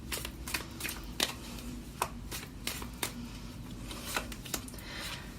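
Tarot cards being shuffled close up, a series of quick riffling snaps and soft slides at an uneven rhythm, quiet and alone with no speech.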